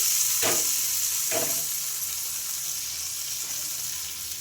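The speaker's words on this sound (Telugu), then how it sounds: "ఇంకా ఇందులోకి పోపు కూడా వేసేసుకుంటున్నాను" A short burst of hot oil tempering sizzling into chutney, two quick crackling hisses followed by a fading simmer.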